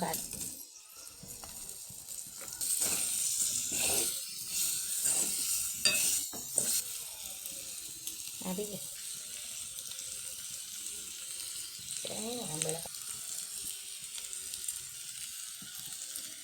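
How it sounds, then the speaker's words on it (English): Spices and potato sizzle and fry in a pan for a biryani while being stirred and mixed, a steady crackling hiss broken by scraping stirs and occasional clatters, fairly close and moderately loud. "We mix and add the potato."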